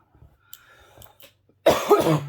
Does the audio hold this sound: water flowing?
no